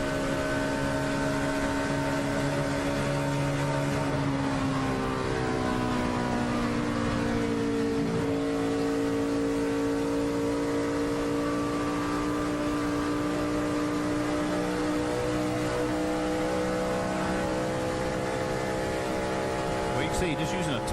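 A NASCAR stock car at the 2011 Royal Purple 300 holds full throttle through turns 1 and 2, its engine a loud, sustained roar with pitch sliding down and back up, under a commentator's voice.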